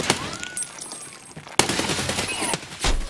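Rapid bursts of Vector submachine gun fire in a first-person shooter, close and loud, with sharp repeated cracks in several short volleys and a few high electronic tones between them.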